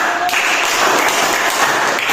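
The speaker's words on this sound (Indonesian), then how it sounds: "Nah, tepuk tangan dulu" A classroom group claps together during an on-the-job training session, a loud, close, continuous patter of many hands that holds steady for the whole stretch.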